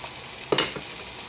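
Tomatoes go into a hot pan for tinolang tahong, a mussel soup, giving a brief soft sizzle and a stirring clatter partway through an otherwise quiet moment without talk.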